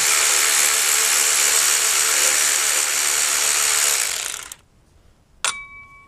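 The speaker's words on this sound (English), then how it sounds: "and you're using electric drill" Electric drill running during a power steering pump and alternator replacement on an Acura TSX: a loud, steady whirring motor for about four seconds that stops abruptly, followed by a short sharp click and a faint ringing tail.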